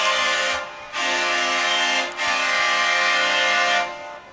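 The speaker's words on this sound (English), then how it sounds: "that is a very loud train horn." A very loud train horn sounds in three long blasts near a high school ballgame between Richland Springs and Zephyr, with brief gaps between the blasts and the final one held longest.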